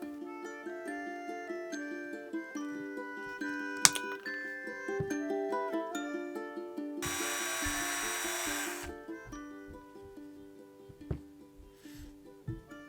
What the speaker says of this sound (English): once you've got the holes drilled deep enough